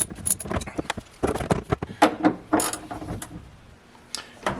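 Metallic ratcheting clicks and clanks from a wrench loosening a bolt on a trailer, coming in irregular short bursts at close range with no talk.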